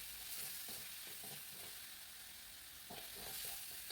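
Spice paste stir-frying in a little oil after the water has cooked down sizzles with a steady, hissing crackle, joined by soft rhythmic stirring scrapes, close and continuous with no talking.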